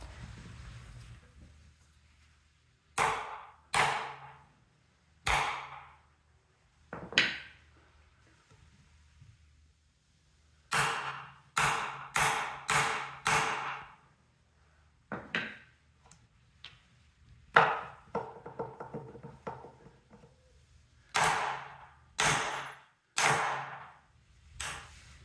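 Metal hammer strikes on a socket pressing out a U-joint on a 1994 Chevy K1500, heard as sharp clanks in short bursts of two to four blows with pauses between, fairly close and alone.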